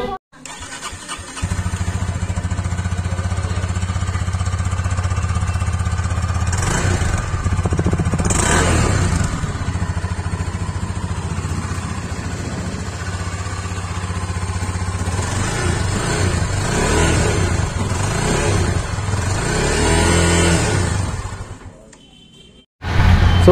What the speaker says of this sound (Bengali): এই বাইকটার এক্সজস্টের সাউন্ডটা আমি আপনাদেরকে শোনাচ্ছি